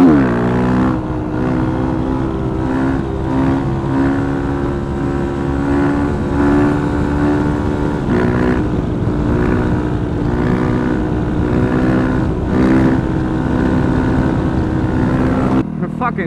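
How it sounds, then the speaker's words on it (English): An old 1980s jet ski engine drones steadily and loudly for about sixteen seconds, a continuous rough hum with slight rises and dips, cutting off abruptly at the end. "Fucking jet ski, man."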